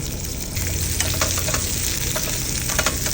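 Mustard seeds pop in hot oil, a steady loud sizzle peppered with sharp crackling bursts, continuous and close throughout.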